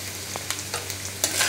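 Sausages and macaroni fry in a pan while a spoon stirs them, giving a soft continuous sizzle broken by a few sharp scrapes and clinks of the spoon, close and fairly quiet, with no talking.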